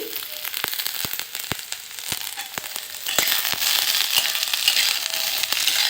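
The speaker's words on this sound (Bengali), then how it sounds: "এবার বিনসগুলো একই সাথে ভেজে নিচ্ছি" Carrots and green beans sizzle steadily in hot oil, a dense crackling hiss that grows a little louder partway through, with sharp spatula clicks against the pan at irregular intervals.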